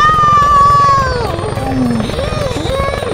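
Loud, close firefighting helicopter with a steady rotor thump and high engine whine that bends in pitch, drowning out background sound.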